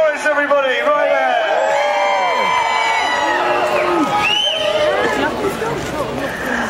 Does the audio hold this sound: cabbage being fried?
no